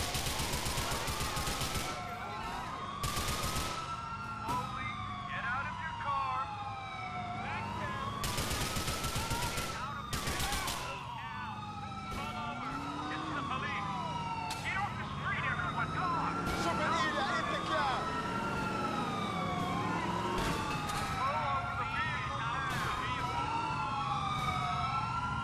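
Police car sirens wailing in repeated rising and falling sweeps during a Grand Theft Auto IV chase, loud and continuous, with bursts of rapid gunfire breaking in at several points.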